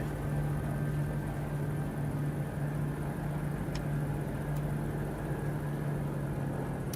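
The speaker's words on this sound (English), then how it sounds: "And killing engine." Aircraft engine in a flight simulator game droning steadily at a low, even pitch with a constant hum, alone and without talk, showing no clear spin-down within the stretch.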